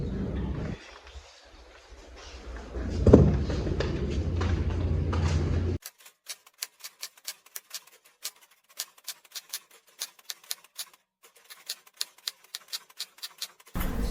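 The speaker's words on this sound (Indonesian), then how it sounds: "Silakan Anda ketik kembali teks proklamasi ini." A manual typewriter types out the Indonesian proclamation text, rapid uneven key strikes clattering close and crisp after a stretch of low background rumble.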